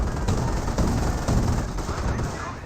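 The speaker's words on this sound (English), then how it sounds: "trying to avoid the cannon fire of the armored car" Cannon fire from an armored car in Company of Heroes, a dense run of overlapping gunfire bursts and blasts with near-constant loud shots across the whole stretch, no pauses between volleys.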